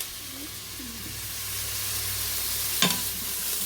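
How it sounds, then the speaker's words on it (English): Onions sautéing in a pan before going into an Instant Pot for lentils, a constant broadband sizzle with faint squeaks and one sharp clink near the end, close and alone. "And we're just sauteing it all in the same pan"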